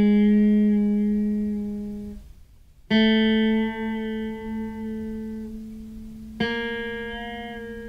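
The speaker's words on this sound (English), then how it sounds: "I'll just play 3 notes with my first 3 fingers." Three guitar notes played with the first three fretting fingers, each starting clean and steady, then pressed down too hard so the pitch bends sharp; single sustained tones with short gaps, close and clear, no talking.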